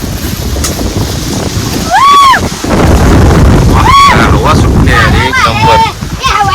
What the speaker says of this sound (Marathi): गारगार वारा